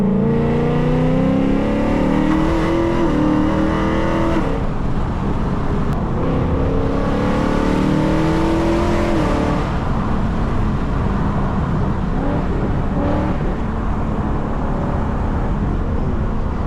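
A car on a rough road, its engine revving hard through rising and falling pitch sweeps for several seconds. It settles into a loud, steady road and engine roar, close and continuous, with no talking.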